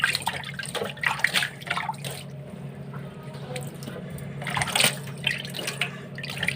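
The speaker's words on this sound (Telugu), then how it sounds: "మనం ఆ వేస్ట్గా వచ్చే వాటర్తో నేను ఇలా సింకు కడుగుతాను" Leftover water splashes and trickles over a kitchen sink during washing, with uneven bursts of splashing and dripping close by; no voices.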